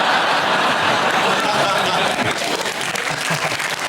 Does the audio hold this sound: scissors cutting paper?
no